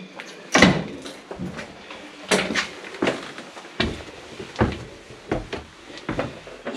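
A cellar door in an abandoned building is opened with a series of knocks, creaks and thuds. The sounds come at irregular intervals and are moderately close.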